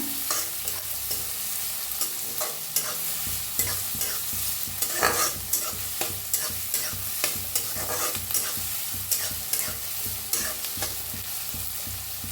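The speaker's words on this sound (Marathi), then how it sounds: "त्याच्यात टाकूया कढीपत्ता छान भाजून घेऊया हलवून" Curry leaves and onion frying in a pan, stirred continuously: a steady loud sizzle with regular scraping strokes of the spatula, close by and uninterrupted by talk.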